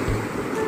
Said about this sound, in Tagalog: Kasi hindi pwede dito kasi ang alon dito bagsak oh.